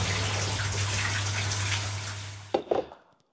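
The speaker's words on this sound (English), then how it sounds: "now it survived me washing the dishes" Tap water runs steadily into a kitchen sink while dishes are washed, a broad loud hiss with a low hum, then shuts off abruptly, followed by a few brief drips and clinks before quiet.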